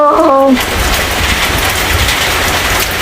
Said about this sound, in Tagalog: Ulan na. Bagyo na dito.